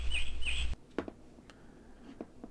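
A bird song sound option in the World Builder game maker plays as two quick synthetic chirping trills at the start, then cuts off, leaving faint clicks and quiet background.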